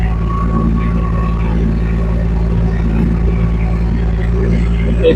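The engine of a Rippa R15 mini excavator with a full cab runs in gear as the machine drives forward, giving a loud, steady low rumble that stays even throughout while a person talks over it.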